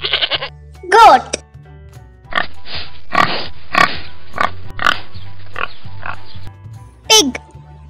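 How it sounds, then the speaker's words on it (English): A pig grunts and oinks in a quick series of rough, close snorts, broken by a couple of higher squeals, over a low steady hum. "Pig."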